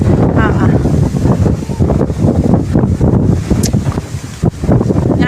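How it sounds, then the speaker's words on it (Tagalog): Strong wind buffets the microphone on a cold, windy mountain top, a steady loud roar and rumble with gusts, while people talk over it. "Mahangin at malamig."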